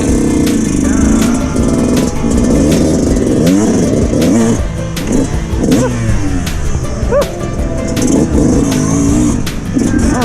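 A Yamaha YZ125X two-stroke dirt bike engine revs loudly and continuously while being ridden, its pitch rising and falling through shifts in second gear, close and dominant throughout.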